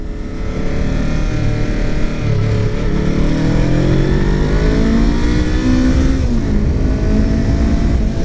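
A 2016 Honda CBR 500R motorcycle engine accelerates loudly and steadily from the rider's position on a road test ride. Its pitch climbs through the gears under heavy wind rush with no pauses.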